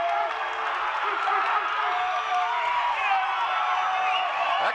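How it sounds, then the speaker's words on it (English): A high school basketball crowd at a Warwick Raiders game cheers and applauds in a steady, dense roar of clapping and whoops, with voices mixed through it. "There you see some of the Warwick Raider crowd."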